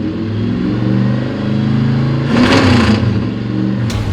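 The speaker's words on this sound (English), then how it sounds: "we just purged the nitrous system through the engine" A car engine idles with a steady drone under a rushing hiss as its nitrous system is purged, then revs up briefly in a loud surge before settling, with a short sharp burst near the end.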